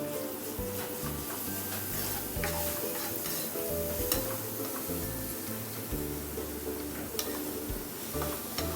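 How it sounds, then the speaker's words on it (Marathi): Garlic paste being sautéed in a pan with softened onion and capsicum, a steady sizzle mixed with repeated scraping and stirring strokes, close and continuous with no talking. "1 चम्मच लसूण पेस्ट घालायची आणि परतायचं"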